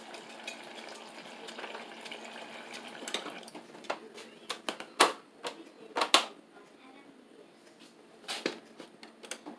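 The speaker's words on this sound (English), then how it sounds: "I'm gonna put a little more water in." Water is poured into a container in uneven splashes and trickles, fairly quiet and close, with occasional sharper drops and no talking.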